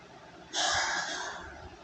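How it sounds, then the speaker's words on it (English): A man's single breathy cough or forceful exhale bursts out near and loud, then trails into a rough, sustained breath for about a second. "That's me coughing."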